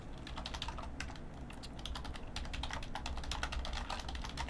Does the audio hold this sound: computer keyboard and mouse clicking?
yes